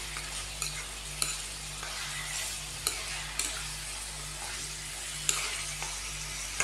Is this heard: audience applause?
no